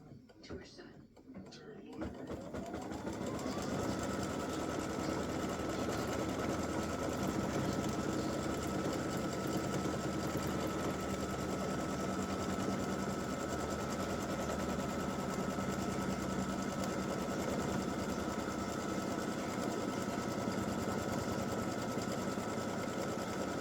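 An embroidery sewing machine stitches a tack-down on fabric, starting up and then running in a fast, steady mechanical whirr with a constant rhythmic needle patter, loud and close.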